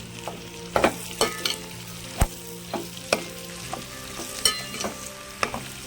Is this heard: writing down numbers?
no